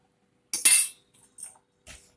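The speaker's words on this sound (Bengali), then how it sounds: "একসঙ্গে সবগুলো এইভাবে আমি একটা পেস্ট তৈরি করে নিচ্ছি" A few light clinks of a spoon against a bowl while soy, chili and tomato sauces are stirred into a paste for chicken Manchurian, in short separate bursts with quiet gaps between them.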